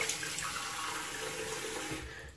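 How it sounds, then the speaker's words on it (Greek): Hot water running from a tap into a mug, a steady, close splashing pour that holds evenly and then tapers off as the flow is cut. "Γεμίζουμε την κούπα μας με ζεστό νερό,"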